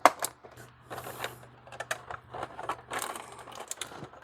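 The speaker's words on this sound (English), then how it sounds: "Cut these zip ties." Plastic zip ties on a mini copter package are snipped, giving a quick run of sharp clicks and snaps along with crinkling packaging at close range.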